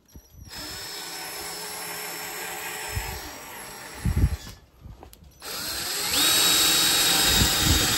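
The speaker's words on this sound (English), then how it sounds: "In preparation to drill some pilot holes." A power drill with an 8.5mm bit whines steadily drilling pilot holes in metal, stops briefly with a few knocks, then spins up again at a higher pitch, close and loud.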